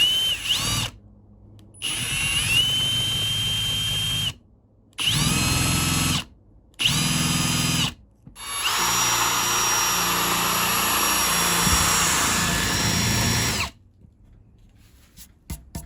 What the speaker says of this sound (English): All right, so I'm just gonna drill that.